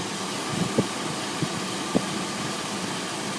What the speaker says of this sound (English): I'll let you listen to the motor real quick.